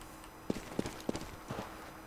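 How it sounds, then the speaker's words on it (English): Sandy footsteps on the Mirage map in CSGO sound as a few quick, faint, soft crunching steps in an even walking rhythm, with nothing else over them. "You can hear normal step, then a sandy step."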